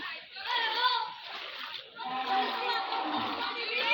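Children's voices and playful shouts over steady splashing in knee-deep flood water, continuous and lively, with several kids close by.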